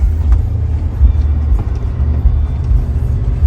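A four-wheel-drive truck dragging a trailer at a vintage car barn-find auction gives a steady, loud low engine rumble throughout, with no talk over it.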